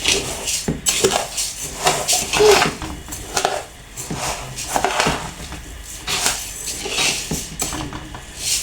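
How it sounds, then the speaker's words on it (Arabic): Rice and lentils for Egyptian koshari being stirred in a pot, with close, busy clinks and scrapes of a metal spoon against the pot repeating throughout. "دلوقتي هنكمل تقليب، هنقعد نقلب لحد ما كلهم يتخلطوا كلهم كويس"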